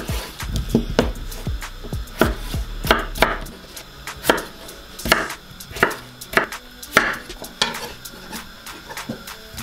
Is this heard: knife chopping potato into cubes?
yes